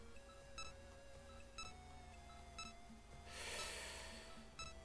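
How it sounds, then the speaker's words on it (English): Beeping alert tone from the MegaMan Battle Network 3 video game, sounding as short repeated electronic bleeps at regular intervals over a steady game music and noise bed, with a brief burst of hiss near the end. "This is beeping for a whole minute now."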